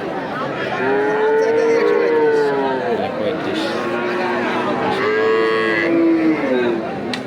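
Cattle at the busy Merenga cattle market in Nandail, Mymensingh, low with long drawn-out moos, several calls overlapping across the whole stretch, loud and close amid crowd noise and talk.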